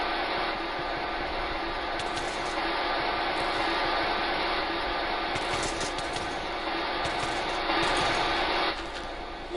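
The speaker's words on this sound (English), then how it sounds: "this is actual audio taken by a microphone on the Huygens probe as it descended through Titan's atmosphere" Wind and turbulence roaring past the Huygens probe descending through Titan's atmosphere, a continuous harsh rushing noise with rattling mechanical texture, steady and loud throughout.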